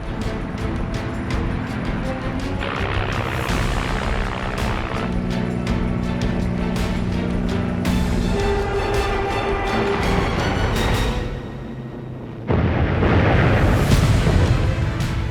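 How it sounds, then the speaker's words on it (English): Bombs exploding on the Japanese aircraft carrier Shoho in a documentary sound effect: loud layered rumbling blasts and crashing debris, sustained and dense, with a brief drop before another heavy burst near the end. "bombs demolish the Shoho's flight deck, exploding inside her hangars"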